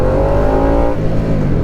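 A Harley-Davidson Nightster 975 motorcycle engine revs loud and close as it accelerates, its pitch climbing steadily before dropping sharply at a gear change and pulling again.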